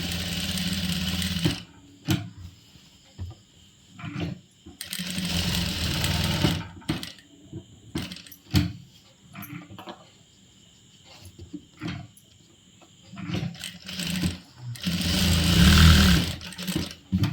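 A sewing machine stitches churidhar lining in short whirring runs that start and stop, with quiet pauses between bursts and a louder final run.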